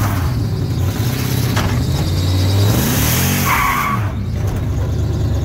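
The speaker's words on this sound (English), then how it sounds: "Power braking." A pickup truck engine revs hard while power braking, a loud sustained roar with rising and falling pitch and a brief tire squeal, close and continuous with no talking.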